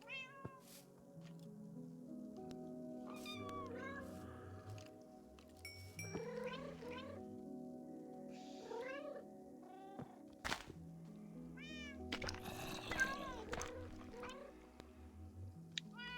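Several cats meow in the video game Minecraft, giving repeated short rising and falling mews scattered across the stretch, some overlapping, over quiet game background with occasional thumps.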